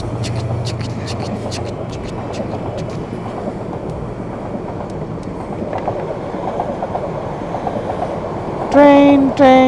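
A train rumbles past on a dark village road at night, a steady close rolling roar with clicking wheels, ending in a loud, sustained horn blast in the last second.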